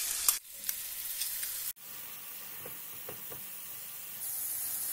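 Spice mix sizzling in hot oil in a pan alongside chopped ingredients for stuffed mild pepper curry, a steady close hiss with a few scraping stir strokes and a brief sharp cut partway through.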